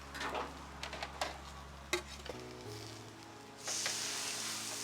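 A Wagyu steak on a hot hibachi griddle starts a loud, steady sizzle late on, after a run of sharp metal clinks and scraping utensil taps.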